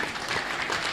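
Audience applause at a grand religious entry ceremony, a dense wash of clapping heard briefly and steadily at moderate loudness.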